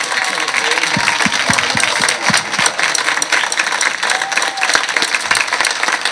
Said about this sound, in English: let's give you a round of applause again.